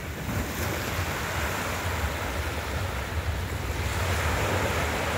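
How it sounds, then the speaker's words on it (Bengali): Rough, churning waves of the Ganges at the Khardah ghat wash in a constant loud roar, mixed with gusty wind buffeting the microphone and no voices. "গঙ্গার আজকে তোলপাড় দেখুন।"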